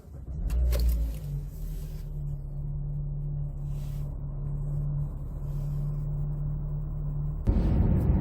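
A 2012 Toyota Avensis 1.8 Valvematic with a CVT Multi-Drive gearbox while driving, a steady low engine drone and road rumble heard from inside the cabin, holding an even level, with a short knock near the start and a louder shift in tone at the end.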